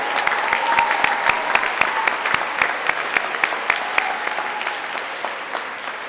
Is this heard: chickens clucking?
no